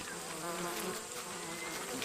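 Bees buzzing steadily around a wild nest as a honey hunter blows smoke into it, a dense continuous hum close by with no voices.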